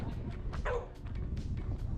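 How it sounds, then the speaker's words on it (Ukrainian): A dog at a campsite near Mafra gives a few short yips and a bark over a steady low rumble of background noise. "А чого ти гавкаєш?"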